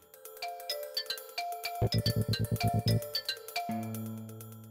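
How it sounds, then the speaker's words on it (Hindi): A phone rings with a bright electronic melody of repeating tones, then a rapid buzzing pulse and a sustained chime, fairly quiet and close. "सर, रानी सरदेसाई का फोन है।"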